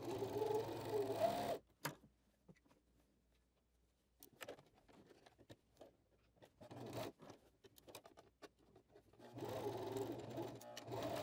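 A domestic sewing machine stitches a dart in two bursts of fast, even whirring at the start and end, with quieter clicks and fabric handling between, close and moderately loud, no talking.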